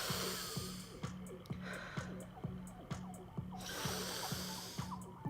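Labored breathing through a partly blocked nose, with one side working harder than the other, comes as a steady run of rhythmic snorting, wheezy breaths, close and fairly loud, with no talking over it.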